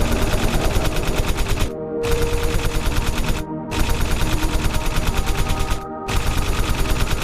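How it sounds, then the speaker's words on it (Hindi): Loud, rapid automatic gunfire rattles in three long bursts separated by brief silences as shots are fired at a zombie in an animated horror story. "उस पर फायर करना शुरू कर दिया।"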